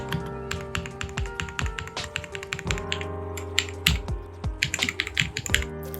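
Fast, close typing on a Vortex Mono mechanical keyboard with PBT keycaps, producing dense, irregular clacks and thocky key bottom-outs with no talking.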